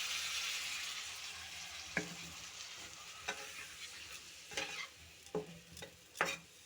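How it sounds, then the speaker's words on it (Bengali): Spices with a little water and vegetables sizzle in a pan for rohu fish curry, under a steady frying hiss with several sharp scraping strokes from stirring, close up. "ভালো করে মশলা সহ একটু কষিয়ে নেব।"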